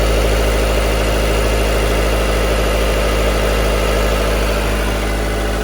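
A 2.4-litre Jeep Cherokee engine running purely on LPG, held steady at about 1500 rpm, gives a loud, constant, even hum with a low-pitched rumble and no talking.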